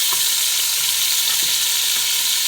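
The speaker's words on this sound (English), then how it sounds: "Turn them over. Just give them all a flip." Chicken pieces sizzling loudly in a pot after being turned, giving a steady bright hiss of frying with faint soft knocks of the pieces shifting, close, with no talk.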